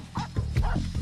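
A dog gives a quick series of close, soft barks and yips, about three short bursts within a second.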